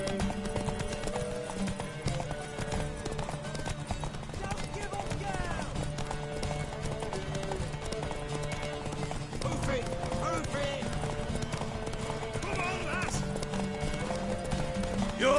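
Horse hooves clip-clop in a steady rhythmic trot in The Witcher 3 on PS4 Pro, layered under game music and characters talking throughout.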